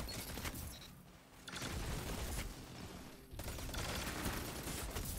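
The Null Calamity auto rifle fires in rapid, dense bursts in a shooter game, loud continuous gunfire broken by two short pauses, with no talking.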